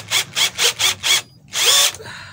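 A ZPER 21V cordless impact drill runs in four short, even bursts, pauses, then gives one longer whir before spinning down, loud and close with no talk.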